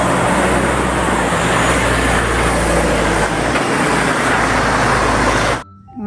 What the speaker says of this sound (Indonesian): Mobil truk towing.